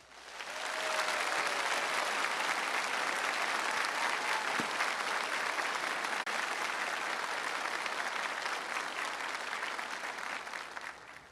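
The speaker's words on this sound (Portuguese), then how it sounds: "dando a ele uma forte salva de palmas" A church gathering honoring Frederico Ozanam breaks into strong, sustained applause, a dense, even roar of many hands clapping for over ten seconds before tapering slightly.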